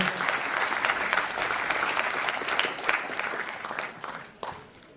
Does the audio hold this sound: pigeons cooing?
no